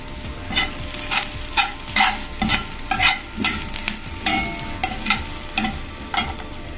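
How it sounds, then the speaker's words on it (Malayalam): Onion, yogurt and ground spice paste being stir-fried in a pan for a chaya mansa thoran, with repeated scraping stirs over a steady sizzle, close and fairly loud, no talking. "നമുക്ക് ഇതിലേക്ക് തൈരൊക്കെ വെച്ചിട്ട് അരപ്പ് ചേർത്ത് കൊടുക്കാം"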